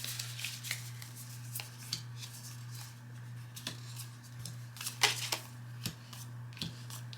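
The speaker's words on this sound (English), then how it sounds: "Shuffle the ghost cards." Board game cards for The Haunted Mansion: Call of the Spirits are shuffled in a quiet room, a string of soft close riffles and taps over a low steady hum.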